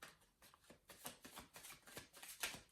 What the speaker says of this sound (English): Let's shuffle some more cards.